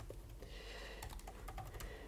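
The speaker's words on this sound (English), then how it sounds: "let me just start typing" Quiet, rapid clicking of keys on a computer keyboard, a short flurry of taps over faint background hum.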